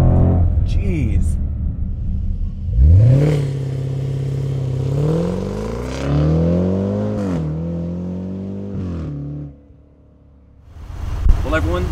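A 2020 Range Rover Velar SV Autobiography launches hard in dynamic mode, its engine revving then climbing loudly through rising gear pulls before easing off, with an occupant talking over the sound.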